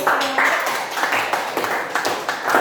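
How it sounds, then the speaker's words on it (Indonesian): A classroom of students claps in a quick rhythmic pattern, bursts of hand claps repeating in short regular groups, fairly loud and close with a lively room feel. "Tepuk tangan dulu."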